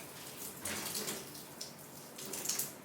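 Water pours out and splashes into a basin during a test of a high-pressure 300-hole shower head, a soft, fairly distant rushing trickle with a few brighter surges.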